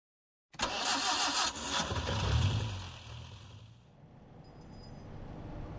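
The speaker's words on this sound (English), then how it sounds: "The engine starts, turning into a rhythmic patter as the black taxi moves forward." A black taxi's engine in a video game cranks and catches after a moment of silence, roars briefly, then settles into a steady, rhythmic idle.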